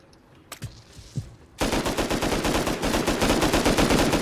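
Automatic gunfire in the console version of the survival game Rust, starting with a few scattered distant shots and then a sustained loud, rapid burst that rattles on for several seconds.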